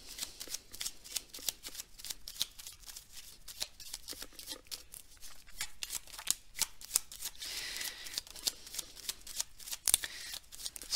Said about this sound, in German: ich mische immer die restlichen Karten hier erstmal dazu